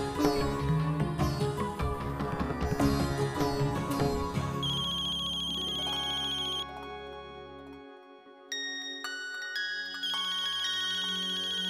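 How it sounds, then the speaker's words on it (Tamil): A mobile phone ringtone plays for an incoming call, a loud melodic tune with layered tones that runs steadily throughout, shifting midway to a sparser chiming pattern, with no talking. "அவ மொபைல்ல இருந்து கால் வருது."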